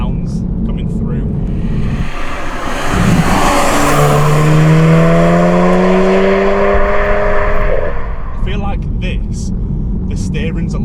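Volkswagen Golf R MK7 launching from a standstill, its engine climbing loudly through rising revs with a shift or two before easing off, heard close from inside the car under a steady background roar.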